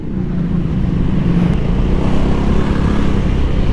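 A Honda Vario 160 scooter fitted with a WRX GP3 exhaust rumbles along in a steady ride, its low, even drone loud and close with passing wind noise.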